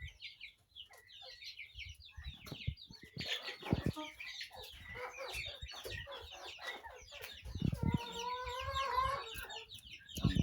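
Point-of-lay hens crossed from Noella and local chicken breeds cluck steadily in a poultry pen, several birds overlapping in quick, busy calls with occasional louder squawks, fairly close by.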